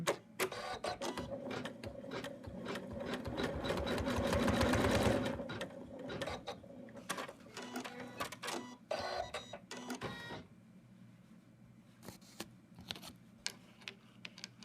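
An embroidery machine runs fast, even stitching a placement line for a Santa's left arm in an in-the-hoop design, loud and continuous, then slows into shorter bursts and stops.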